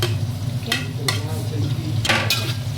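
Green chilies and curry leaves frying in a pan and being stirred, constant close sizzle broken by several sharp scraping strokes of a spoon against the pan, with no one talking.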